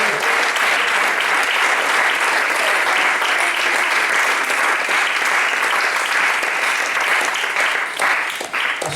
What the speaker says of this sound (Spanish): ¿Cuánto le dan ese fuerte aplauso al Señor?